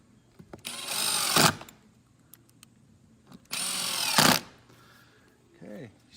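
A handheld screw gun drives screws into casement window hardware in two long whirring bursts that rise in pitch and stop abruptly, with a brief mechanical squeak at the end.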